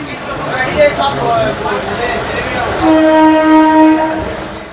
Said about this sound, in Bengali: ট্রেন কিন্তু মা তারা এক্সপ্রেস পুরো কারেক্ট টাইমে কিন্তু ট্রেন ছেড়ে দিল।